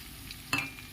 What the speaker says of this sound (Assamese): ডিমটো অলপ দেৰি এনেকৈ ভাজি ল'ম ডিমটো।